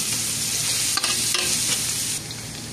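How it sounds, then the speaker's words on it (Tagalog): Spices sautéing in an oiled pan for beef pares, a steady close sizzle and fry with a few scraping stirs of the spatula partway through, continuing alone without voices. "gisahin natin hanggang lumabas ang aroma"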